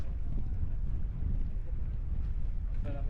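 Steady strong wind buffets the microphone with a low, continuous roar throughout at Boracay, a faint tonal sound briefly rising near the end.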